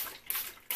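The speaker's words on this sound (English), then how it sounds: "spray the painting with water" Two quick, close bursts of fine spray hiss out, a short pause between them, as a hand pump spray bottle mists water onto a painting.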